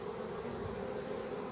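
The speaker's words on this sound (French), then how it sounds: "C'est quand même des abeilles." Honeybees hum in a steady, even drone at a springtime hive in an apiary, a soft continuous buzz with no voices over it.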